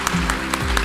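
A conference audience applauds at a technology summit, several bursts of clapping spread through a short, moderately loud stretch.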